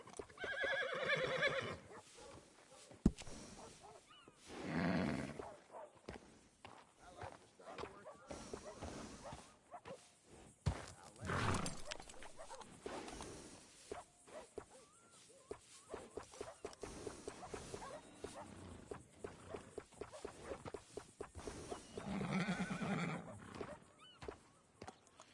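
Horse in a PS4 video game neighing and snorting during grooming, several whinnies and huffs spread over a busy mix of game sounds and clip-clops, with speech at times.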